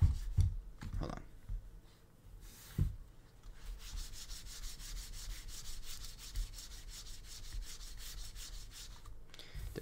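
The plastic feet of a Razer Viper Mini mouse scratch across a mouse pad in a dry, rough rubbing sound, first in a few sharp strokes and then in a steady back-and-forth rasp, close and fairly quiet.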